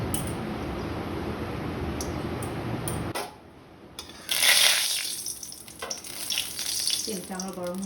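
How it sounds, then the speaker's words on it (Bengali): Mustard oil sizzles in a hot kadai on a gas stove, a close, steady crackle that cuts out briefly, then returns in sharp bursts with light ticking and stirring. "এখন আমি সরষের তেল দেব।"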